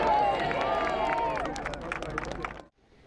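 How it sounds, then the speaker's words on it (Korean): Crowd outside Buckingham Palace cheering and clapping as King Charles III and his wife appear in black mourning dress, a dense loud roar with whistles and claps that cuts off abruptly near the end. "군중들 사이에선 환호성이 터져나왔습니다"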